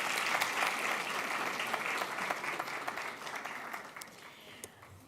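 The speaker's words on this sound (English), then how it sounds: "A round of applause," Steady applause from an audience at the launch of Generation Unlimited South Africa, dense clapping that holds loud and then eases off slightly toward the end.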